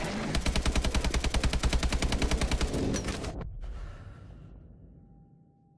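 Rapid automatic gunfire from Call of Duty Advanced Warfare, a long loud burst of evenly spaced shots that cuts off abruptly, followed by a fading tail of noise and echo.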